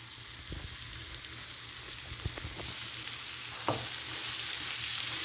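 Butter hits a hot pan and sizzles steadily, with a few soft clinks and stirring scrapes over the frying hiss, heard close up with no speech.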